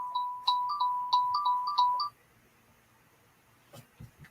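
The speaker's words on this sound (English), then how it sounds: "Oh, I gotta turn my phone off." A phone being switched off gives a run of about eight short, close electronic beeps in a quick, uneven rhythm. A brief quiet stretch follows, then a few faint clicks.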